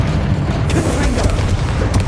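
Confringo spell blast in the video game Hogwarts Legacy during a dragon fight, a loud, close booming explosion with heavy low rumble and scattered crackles, steady and dense for its whole short span.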